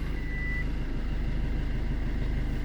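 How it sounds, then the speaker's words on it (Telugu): A 2015 diesel Maruti Ciaz with 90,000 km, shifted into reverse gear, gives one short high electronic beep over the steady low hum of its idling engine. "సో రివర్స్ గేర్ వేస్తున్నా."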